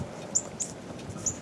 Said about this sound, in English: That bird needs to shut the fuck up.